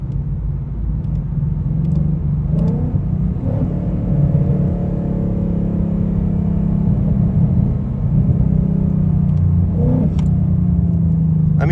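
Rumbling engine of a gray and pink striped Dodge SRT Hellcat in traffic, a steady low drone that swells slightly as it revs, heard continuously from inside a nearby car with a few faint clicks.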